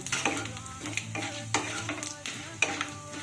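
Whole cardamom, clove, cinnamon and cumin tempering in hot oil, a soft sizzle under repeated stirring and scraping of a utensil against the pan, with occasional metallic clinks.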